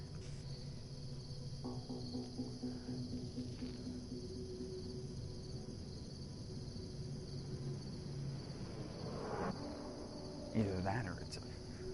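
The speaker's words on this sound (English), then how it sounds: "There's a cicada over there." A single cicada drones steadily and continuously in a natural outdoor setting, a sustained buzzing heard from a short distance, with no talk during it.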